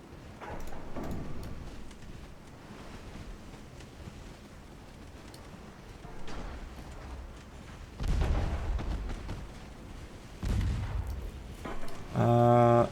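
Battleship Yamato firing its heavy naval guns in World of Warships, with deep booming blasts rolling out over a steady rumble of sea and wind, several heavy volleys spread across the stretch.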